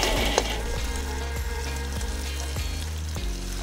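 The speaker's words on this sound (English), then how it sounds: "So first we're gonna cook the meat." Meat sizzles and fries steadily in a pan, loud and close, with faint periodic scraping or stirring taps.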